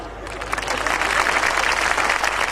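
An audience at a Hindi poetry gathering in Seawoods claps continuously, a dense, even wash of applause that builds slightly and holds steady without a break.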